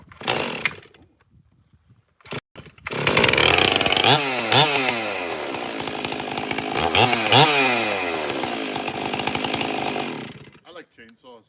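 An old chainsaw sputters, catches and roars to life after a few pulls, revving up and down loudly for several seconds before cutting off, with a voice briefly audible at the start.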